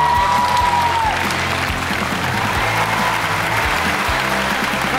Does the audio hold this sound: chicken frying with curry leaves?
no